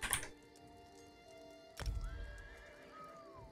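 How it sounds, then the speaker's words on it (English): In The Elder Scrolls Online, a horse gives a bright whinny at the start, then after a pause a dull thump and soft hoof clops follow over a steady game music bed, with no talk. "I'll whistle and I'll climb on the horse."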